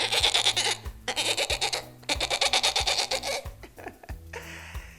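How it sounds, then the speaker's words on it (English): A goat being led off from a market with its mouth full of flowers bleats in loud, repeated, wavering cries, broken by short pauses. "led the goat off with its mouth full of flowers, bleating"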